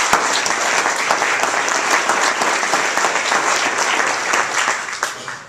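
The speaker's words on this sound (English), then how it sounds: "I think we should have a round of applause" An event audience gives a round of applause, many people clapping loudly and continuously for over five seconds, close and dense with scattered sharper claps.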